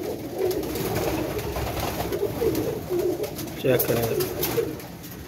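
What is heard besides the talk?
Jonsra pigeons cooing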